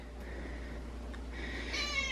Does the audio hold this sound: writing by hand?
no